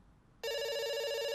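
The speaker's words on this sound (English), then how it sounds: "It's ringing." A telephone in the video game Dr. Langeskov bursts into a bright, steady electronic ring after a brief moment of near silence, close and loud, with no speech.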